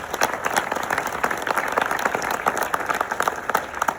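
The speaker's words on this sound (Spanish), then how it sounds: "Y así que Agustín, un fuerte aplauso para mi querido Agustín también." Audience applause at a talk on technology and anthropological change, steady dense clapping from a crowd that fills the whole stretch at an even level with no voices over it.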